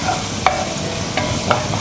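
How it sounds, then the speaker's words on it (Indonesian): Carrots, parsley and garlic sauté in a pan, a soft steady sizzle with a few quick scraping stirs of a utensil, close and alone. "Tumis sampai kuning."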